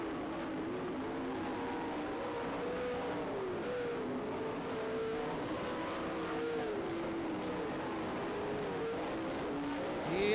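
Race cars howl past at speed on the Road America circuit during a PDTR event, a steady loud engine drone with shifting pitch sweeps as cars pass, faint commentary beneath.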